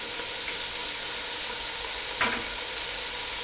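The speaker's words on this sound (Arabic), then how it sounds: "حطينا حبه زيت وبشوح الكابوريا اهو لحد ما اللون بتاعها يغير" Crab sautéing in a little oil in a pot for seafood soup, a steady low sizzling hiss throughout with one brief louder stir or spatter near the end.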